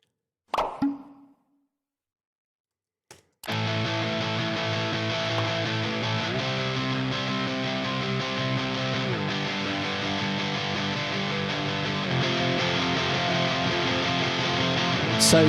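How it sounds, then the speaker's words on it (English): After two brief clicks and a pause, dense layered rhythm guitars enter and play continuously at high level, a thick wall of sustained strummed chords. "there's my rhythm guitars, okay? They sound great."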